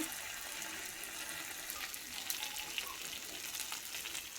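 Water pours into spice masala frying in a pan, a steady broadband sizzle and hiss with faint splashing that holds evenly loud from start to finish.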